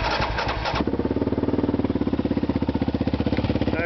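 A Yamaha Raptor 700R quad's engine is cranked and catches, then settles into a fast, even, pulsing idle close by, loud and steady with no talking.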